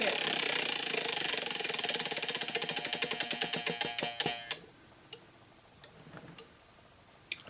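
A prize wheel for a reading challenge is spun, and its pointer clicks rapidly against the pegs. The clicks slow into spaced ticks until the wheel stops at about four and a half seconds, followed by a few faint stray clicks.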